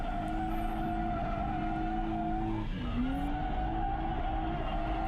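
A drift car fitted with a GKTech angle kit and lower control arms slides at a drift event after a hard e-brake pull. A steady roaring engine drone carries on under continuous tire squeal, with a pitch dip partway through and no talk.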